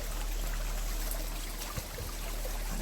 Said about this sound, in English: Here's the stream rippling along.